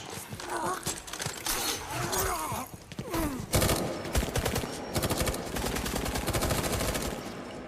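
Rapid bursts of machine-gun fire and scattered gunshots ring out in a TV series action scene, loud and dense, with brief pauses between volleys and some hoofbeat-like thuds mixed in.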